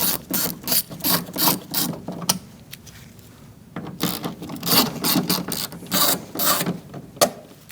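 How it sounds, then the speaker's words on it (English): Ratchet fitted with a T30 bit loosening screws on a 2008-2014 Mercedes-Benz C300 front door, giving rapid close clicking in repeated bursts with a short pause midway. "Using a T30, we're going to remove this screw."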